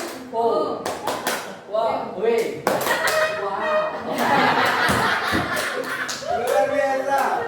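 A group in an Indonesian teachers' training session performs the "tepuk wow" clapping chant, with bursts of rhythmic claps mixed with voices chanting and cheering throughout.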